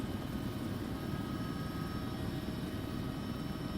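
A helicopter in the military game ArmA 3 drones steadily, a constant rotor and engine roar that holds even and unbroken with no voices.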